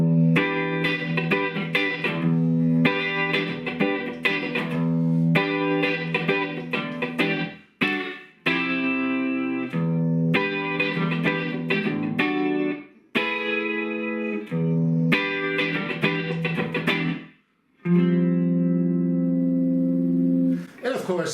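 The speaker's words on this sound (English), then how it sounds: "together with a little reverb and a little chorus, it gives you that nice room sound again" An electric instrument plays through a Lexicon Signature 284 amp with a little reverb and chorus, producing full, sustained chords and notes with a roomy shimmer. The playing runs continuously and pauses briefly a few times.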